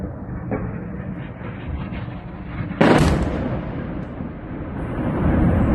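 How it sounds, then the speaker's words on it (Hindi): Cluster missiles strike Israel amid a continuous heavy outdoor rumble, broken by one sudden loud blast partway through, with rumbling noise continuing afterward. "एक ही वक्त में उधर से लेबनान के अंदर से और इधर ईरान से इजराइल पर क्लस्टर मिसाइलें आई हैं"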